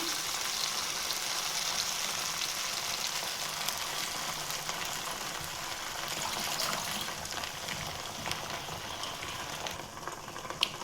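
Gongura leaves frying in oil in a pan give an even, dense sizzle and crackle that holds steady throughout, close and moderately loud, with a faint clink near the end and no speech.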